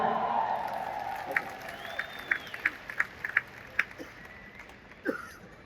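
An audience at a Hindi-language business event claps in scattered, uneven bursts, a few sharp individual claps standing out as the applause thins and fades.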